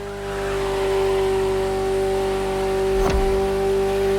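A Ferrari sports car engine accelerating in the racing game The Crew Motorfest, a loud sustained engine drone building in over the first second, with a brief sharp whoosh or gear shift near the end.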